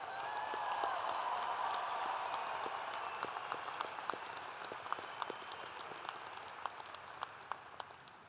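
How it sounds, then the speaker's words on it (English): A large commencement crowd applauds graduates at WSU's spring 2018 ceremony with dense, sustained clapping that gradually thins out over several seconds, leaving scattered louder individual claps toward the end. "Let's give another big round of applause for our graduates."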